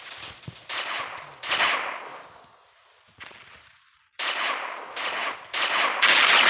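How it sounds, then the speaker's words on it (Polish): Gunfire in a sandbox video game: repeated bursts of rapid shots, some long and rattling like automatic fire, separated by short pauses, loud and close with no talking. "Czym tak to strzela, strzela!"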